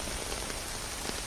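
Heavy rain pours down in a steady, dense hiss with no letup, part of a horror story told at night; no voices, just the close, even wash of rainfall.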